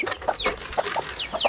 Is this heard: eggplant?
no